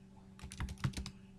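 Quick, light keystrokes on a computer keyboard while an SQL query is typed, a short burst of about eight taps in an uneven rhythm, close and quiet over a faint electrical hum.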